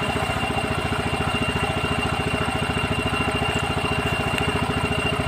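A Yamaha Mio automatic scooter idles after a drive-belt and roller replacement, its single-cylinder engine putting out an even, rapid low putter that stays steady throughout at close range, with no voices.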